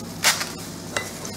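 Food frying in a pan and being stirred while preparing a simple student-style dish, with a couple of short scraping clatters over a quiet, steady sizzle.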